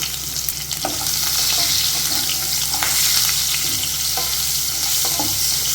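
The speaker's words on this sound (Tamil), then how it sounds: "சின்ன வெங்காயம் ஒரு ஆறு வெங்காயம் தான் ரெண்டு ரெண்டாக கட் பண்ணி விட்டுருக்கேன் இதை போட்டு கொஞ்சம் வதக்கி விட்டுடலாம்" Small shallots, halved, sauté in a pan for a ripe mango sambar, giving a constant close sizzle and frying hiss with occasional stirring scrapes and clicks, no voices.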